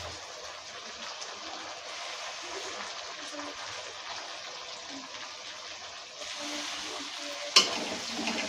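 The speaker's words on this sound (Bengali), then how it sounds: "টমেটোগুলো পেঁয়াজের সাথে ফ্রাই করতে হচ্ছে।" Tomatoes and onions frying together in a pan for homemade chicken dum biryani, a steady close sizzle with a stirring scrape and a sharp clank near the end.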